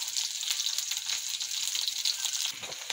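Onions, capsicum and green onions sizzle steadily in a pan for chicken soup, a continuous bright hiss with faint crackling and no voices.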